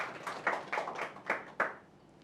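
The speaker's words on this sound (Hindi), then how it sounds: "होस्ट के लिए भी तालियां हो जाए।" Audience applause for a host at a Hindi poetry gathering marking Azaadi ka Amrit Mahotsav, heard as a short burst of scattered hand claps that swells in several uneven waves before fading out.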